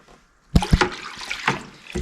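Water mixture being stirred by hand inside a backpack-style container holding about 3 gallons, giving a few close sloshing splashes and a softer churning wash, with no talking.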